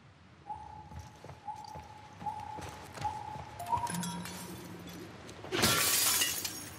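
Glass shatters loudly in The Last of Us Part II, a sharp crashing burst near the end that follows a run of soft, evenly spaced tonal beeps and muffled thuds.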